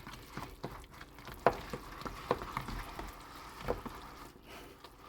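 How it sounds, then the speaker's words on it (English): Manicotti filling being stirred together with jarred Classico pesto in a bowl, giving soft, wet, irregular squelching and scraping strokes at close range with a few sharper knocks, alone and fairly quiet. "You want to really mix this good."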